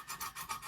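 A steel knife blade of CTS 204P steel is drawn across a Lansky sharpening stone, making a quick series of close raspy strokes that repeat in a steady rhythm.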